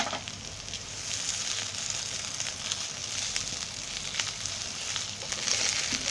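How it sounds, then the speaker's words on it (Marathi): Ginger garlic paste sizzles with onions in a hot pan while chicken keema is being cooked, giving a steady, close frying hiss with small crackles throughout and no talking. "आता त्याच्यामध्ये अद्रक लसूणची पेस्ट टाकते."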